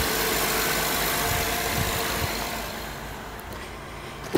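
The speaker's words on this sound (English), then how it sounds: "This engine does run great." A 2012 Honda Odyssey 3.5-liter engine idles steadily, a smooth even hum that fades slightly toward the end and is cut by a brief knock.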